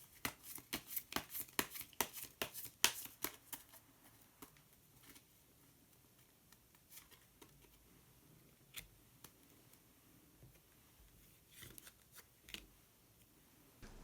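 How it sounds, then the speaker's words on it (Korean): A deck of color cards is shuffled with a quick run of crisp flicks and snaps, then a single card is drawn with a few sparse soft taps and slides in a quiet room. "색깔로 알아보는 컬러 카드 한 장 더 뽑아보도록 하겠습니다"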